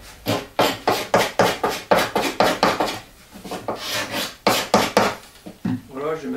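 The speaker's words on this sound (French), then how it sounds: "Donc je vais gratter un peu les excès de silicone." Excess silicone is scraped off the cone of a workshop cyclone vacuum, a series of repeated rasping scrape strokes in quick rhythm, close and fairly loud, pausing briefly midway before resuming.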